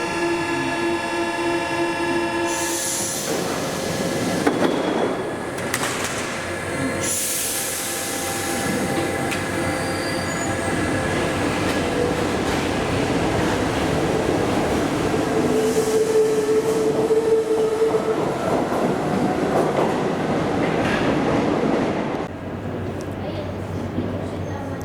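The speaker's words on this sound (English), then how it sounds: "oh, this train is going to leave" A Paris metro train on line 3bis pulls away from an underground platform, its motor whine and wheel clatter rising and holding steady for most of the stretch, with brief squeals and a tonal hum before it recedes.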